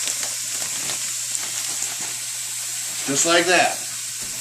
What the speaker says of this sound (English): You can hear that skillet working.